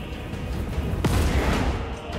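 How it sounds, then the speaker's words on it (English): Cannon fire rings out across a battlefield in the video game Total War: Warhammer 3. One heavy boom lands in the middle over a constant rumble of distant battle noise, then a rolling echo follows. "The cannons rain death."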